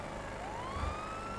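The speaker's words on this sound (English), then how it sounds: "if you hold down the horn button, then it blasts that little extra horn siren" A police pursuit car's horn-button siren blasts in a video game, a near, loud rising electronic wail that sweeps upward and holds over a low engine rumble.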